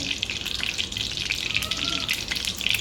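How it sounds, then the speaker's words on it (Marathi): Hot oil in a kadhai crackles and sizzles while chicken fries, a dense bright spattering hiss with small pops, fairly quiet and continuous. "एक मी कढई ठेवली आहे आणि त्याच्यामध्ये मी तेल घातलेलं आहे तेल चांगलं तडतड फ्राय होऊन देत आहे"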